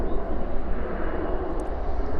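An airplane rolls along a runway at night at DFW airport, giving a steady, loud, broad engine rumble with no break over a couple of seconds.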